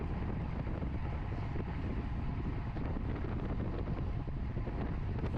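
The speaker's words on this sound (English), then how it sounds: "I was getting blasted by the wind" Strong wind blasting a cyclist's microphone during a road race, a continuous loud rushing roar with no pauses.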